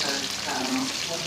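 Filipino shanghai spring rolls frying in hot oil for dinner, a steady, dense crackling sizzle filling the whole short stretch, close and even, with no talking over it.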